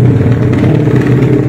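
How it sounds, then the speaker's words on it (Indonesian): Motorcycle engines from a drag race at a street race and modification contest in Kemayoran, 2023, rumble steadily in the background, a continuous loud low drone with slight revving swells throughout. "Sorry kalau agak berisik guys, soalnya belakang masih ada drag race."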